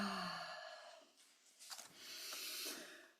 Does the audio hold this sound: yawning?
yes